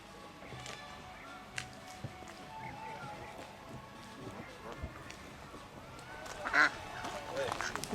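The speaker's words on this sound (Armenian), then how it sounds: "Եկան բադիկները, բադերը եկան։" Ducks quack at a pond in Dilijan, with scattered short calls over steady outdoor background noise and a louder burst of quacking near the end, while people talk throughout.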